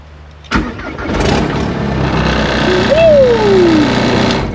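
A barn-find Volkswagen Caddy with a swapped TDI diesel engine cranks briefly and catches, then settles into a loud, close, steady idle with a rising whine from the engine bay, no talking.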